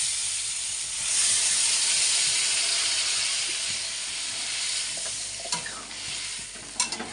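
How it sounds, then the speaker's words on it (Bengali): Rohu fish curry with potatoes simmering in a pan as water is added, a loud rushing hiss and sizzle swelling early then settling, with a few sharp clinks of a spoon near the end. "জল দিয়ে দেব।"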